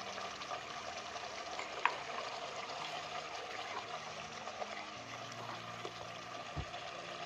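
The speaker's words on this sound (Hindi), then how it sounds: "इसमें हम 1 चम्मच लहसुन अदरक का पेस्ट डालेंगे।" Garlic-ginger paste frying in a pan for a dhaba-style egg curry, a steady soft sizzle with faint crackles and a few light clicks, continuous and fairly quiet throughout.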